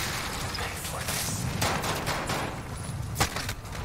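Rapid gunfire in the video game Modern Warfare, a dense, continuous crackle of shots with a few sharper bursts over a busy battlefield din, no clear talk.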